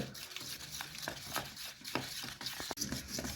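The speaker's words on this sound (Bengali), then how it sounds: "আমার ব্যাটারটা প্রায় হয়ে আসে আর কিছুক্ষণ ফেটাবো" Rapid, rhythmic wet scraping and tapping of cauliflower pakora batter being whisked in a bowl, close and fairly quiet.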